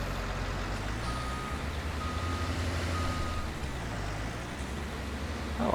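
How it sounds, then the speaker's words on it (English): A garbage truck in Farming Simulator 19 backs up with a steady series of reversing beeps, moderately loud over a constant low engine rumble and road noise, with no speech. "Oh, our truck is coming back."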